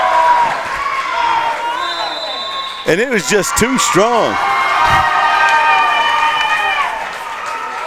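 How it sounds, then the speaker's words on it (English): Home crowd cheering loudly in a high school gym during a girls' district championship basketball game, a sustained roar with sneaker squeaks and a commentator talking over it. "And the crowd going wild in here in Red Devil Den"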